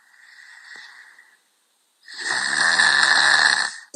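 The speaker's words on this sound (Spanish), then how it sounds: "Escuchen cómo este niño está roncando muy profundamente" A five-year-old child snoring deeply: one faint, rasping snore, a pause, then a louder, longer, rattling inhalation snore heard up close with nothing else around.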